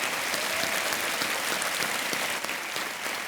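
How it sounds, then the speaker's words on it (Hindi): A game-show studio audience applauds on Kaun Banega Crorepati, a dense, sustained clapping that holds steady with a slight dip near the end, no voices over it. "तालियां बजनी चाहिए इनके लिए"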